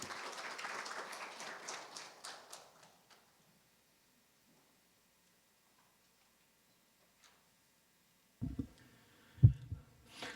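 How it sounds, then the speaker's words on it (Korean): Audience at a Daejeon sustainability and ESG management forum clapping to welcome a speaker, a short burst of applause that fades out within three seconds, followed by silence and then a few thumps and brief noises. "나오실 때 큰 박수 부탁드리겠습니다."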